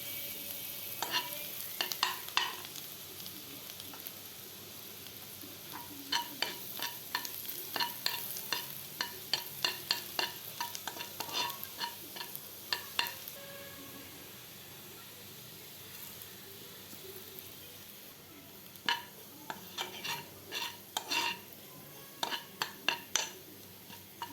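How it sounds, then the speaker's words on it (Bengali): Melted butter with chopped garlic, chili flakes and a little salt fries in a pan, a soft steady sizzle broken by bursts of quick metallic clicks and scrapes from stirring, close by and with no talking. "এর মধ্যে বেশ কিছুটা রসুন কুচি আর চিলি ফ্লেক্স আর সামান্য একটু নুন দিয়ে বেশ কিছুটা নাড়তে হবে"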